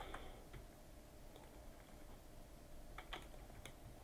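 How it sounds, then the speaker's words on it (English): Quiet, irregular clicks of typing on a computer keyboard over a low background hum, with no one speaking. "Sorry, I'm a little typing slow."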